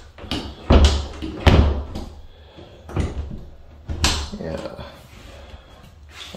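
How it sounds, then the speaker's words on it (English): Closet doors in a modern single-wide mobile home are opened and shut several times, giving a series of sharp wooden knocks and clacks at uneven intervals, with a muffled voice in the background. "These doors seem to be put together pretty well."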